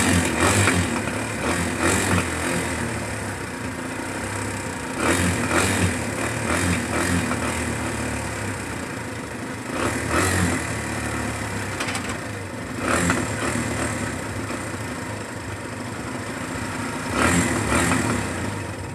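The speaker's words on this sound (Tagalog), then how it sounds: "Umaandar yung motor." Motorcycle engine filled with diesel inside running steadily nearby, a continuous mid-pitched idle that swells periodically in soft revs over about nineteen seconds, with no talk.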